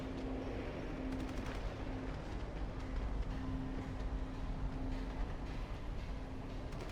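Gunshots in the stealth game Splinter Cell, heard as a faint, steady rattle of rapid fire under a constant low hum, with no clear separate shots standing out.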